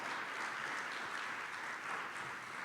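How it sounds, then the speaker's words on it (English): Workshop audience applauding the Lieutenant Governor of New Jersey, a steady dense wash of clapping that holds at even loudness throughout with no voices above it. "Yeah, you can clap for that"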